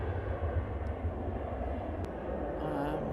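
Steady broad roar of an airplane departing Manchester Airport, heard from a distance as a constant rumbling wash of engine noise filling the whole moment.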